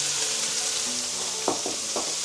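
Rice hits a hot, oiled pan after steak has been seared, giving a steady loud sizzle and frying hiss with a few brief stirring scrapes near the end.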